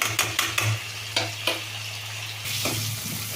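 Eggplant fries in oil in a pan: a series of sharp spatula knocks and scrapes over a constant sizzle that grows louder near the end, close up and without talk.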